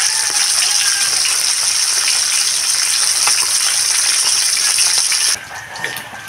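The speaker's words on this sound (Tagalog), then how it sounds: "kulo na yung aking sinigang sa kalamansi na sapsap" Pot of sinigang soup with sapsap fish and calamansi at a steady boil, a continuous bright bubbling hiss heard up close with no talk, easing off abruptly near the end as the bubbling quiets.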